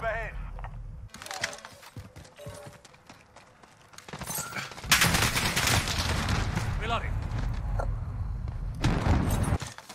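Bursts of video game gunfire crackle through a busy firefight, with rapid volleys and scattered shots mixed with footsteps and players talking over the action.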